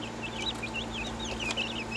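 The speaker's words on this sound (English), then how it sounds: "we'll just watch some chicken TV" Several chickens cluck and murmur in quick, overlapping bursts against a low steady hum, fairly close, with no talking.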